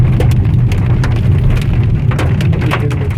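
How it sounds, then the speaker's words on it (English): Small hailstones fall steadily during a hailstorm in the Andes of Mendoza, making a dense, loud patter with sharp individual ticks over a low rumbling background. "it's still coming down as hail"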